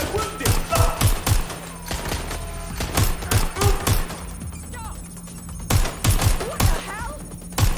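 Video game gunfire in Watch Dogs Legion, bursts of rapid shots and scattered single cracks in a combat scene, loud and close, with game voices calling out between the volleys.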